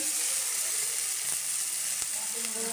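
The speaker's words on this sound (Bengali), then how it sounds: "দেখেন আমি পেঁয়াজ তেলে ভর্তাগুলো ভেজে নিব।" Mashed vegetable dishes fry in onion-flavored oil, a steady, close, dense sizzle throughout with a couple of faint stirring clicks.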